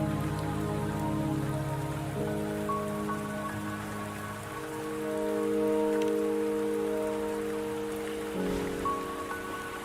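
Steady rain hisses in the fantasy game Wuthering Waves, a soft, even patter sitting beneath sustained melodic background music throughout.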